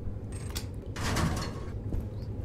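A door swinging open in the horror game My Friendly Neighborhood, a soft creaking slide with a brief louder stretch in the middle over a low rumbling background, heard alone without talk.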